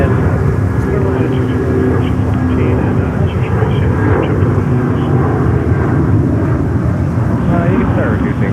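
Airliner landing on runway 22 left at JFK airport in strong westerly winds, a steady loud broadband jet roar holding throughout, with radio voices talking over it.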